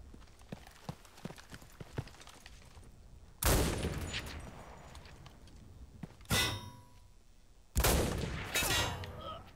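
Gunfire in the World War II shooter game Enlisted: scattered sharp distant shots at first, then three loud close bursts of rapid firing that ring out and decay, with a brief voice in the background.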